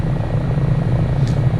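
Steady rotor and turbine drone of an HH-65 Dolphin Coast Guard helicopter hovering over Valdez, Alaska in the flight simulator MSFS 2024, a dense continuous low throb with no talk.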